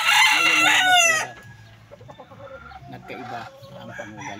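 A gray gamecock rooster of a bred line crows loudly and close once, a long strained cock-a-doodle-doo, followed by softer clucking and faint background noise.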